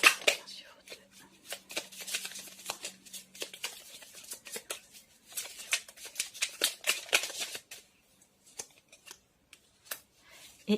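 Tarot cards being shuffled and drawn, a quick papery flutter of cards followed by scattered soft taps and slides, with someone speaking quietly at times.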